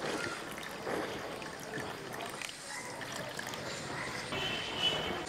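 Water pours steadily into a pressure cooker while lentil curry is cooked in a home kitchen, a continuous splashing trickle heard up close with no talk.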